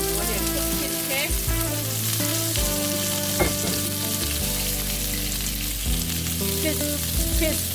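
Fish cake fries in a wok with browned ginger and garlic for fried rice, giving a steady crackling sizzle beneath loud background music.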